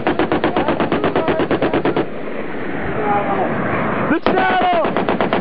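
Rapid machine gun fire in an intense firefight in Afghanistan, loud close bursts of regular repeating shots for two seconds, then a lull and a sharp blast followed by more firing, with shouting voices over the gunfire.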